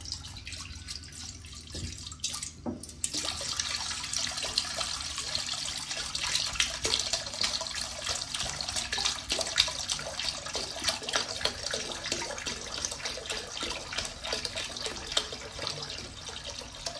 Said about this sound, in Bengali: এখন একটা কড়াইতে পরিমাণ মতো দিয়ে দিব পানি।